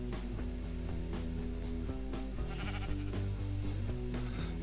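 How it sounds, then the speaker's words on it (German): Sheep bleating in the video game Minecraft over a steady background of melodic game music, several short bleats recurring through the stretch at moderate loudness. "Na, ihr Schafe?"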